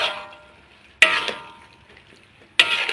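Luffa stir-fried with pork and fresh chili in a big wok, a bright loud sizzle that surges twice with the scrape and clatter of stirring, then settles into a softer hiss, with no one talking.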